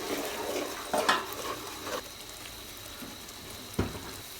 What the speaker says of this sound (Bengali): এবার ভালো করে মশলাটাকে ভেজে নেব, যাতে এগুলোর কাঁচা গন্ধটা না থাকে